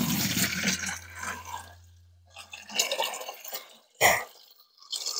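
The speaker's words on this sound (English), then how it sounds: "Got my hose going here." Garden hose running water into a watering can, a broadband rushing splash that starts loud, fades after about two seconds, then returns in uneven bursts with a sharp surge near the end.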